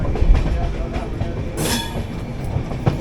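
Shirdi-Mysuru Weekly Express moving off a loop onto the main line near a yard, with a steady low rumble of wheels and a brief hiss-like burst midway.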